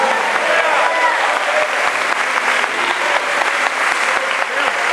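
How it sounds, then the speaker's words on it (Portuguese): A church congregation gives loud, sustained applause to the Lord, a thick wash of clapping with voices rising and calling out underneath. "Quantos podem aplaudir ao Senhor?"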